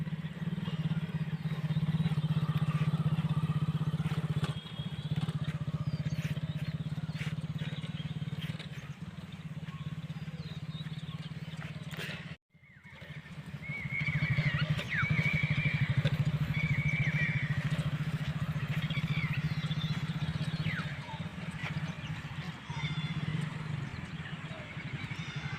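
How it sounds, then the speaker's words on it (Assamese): A motorcycle is ridden around a large open field beside a temple, its engine a steady moderate drone at some distance with small rattles, briefly dropping out midway before resuming. "পূৰা বাইক চলাইছে আজি তাই"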